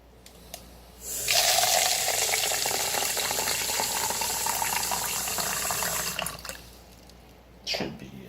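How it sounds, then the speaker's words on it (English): Tap water runs from a sink faucet into a container for several seconds in a loud steady stream, then shuts off, followed by a brief splash and faint drips. "But I'm going to fill this up with some water just from the sink."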